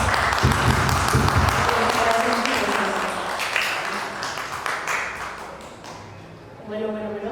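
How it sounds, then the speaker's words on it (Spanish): An audience at a book presentation applauds after a brief introduction, a dense wash of clapping that thins and fades toward the end, with voices mixed in. "les damos un aplauso"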